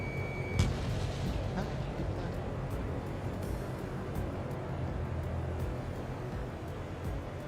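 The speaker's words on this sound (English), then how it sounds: "Missile launched." Missile launch in the jet combat game Ace Combat 7, a steady roaring rumble with a sharp burst near the start, continuous and loud under a busy layer of combat noise.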